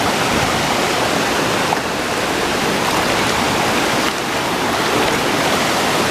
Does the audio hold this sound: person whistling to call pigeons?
no